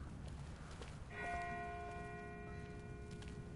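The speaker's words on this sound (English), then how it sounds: "That's not the same bell as before. This one's further off." In The Walking Dead video game, a single bell strikes once at a distance and its ringing tone lingers and fades slowly under a faint, steady ambient wash.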